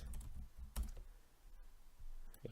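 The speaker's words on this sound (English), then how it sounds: "Ignore the terrible typing there." Someone types on a computer keyboard in a few quiet clicks and taps, irregular and close, set against a low background hum with no talking.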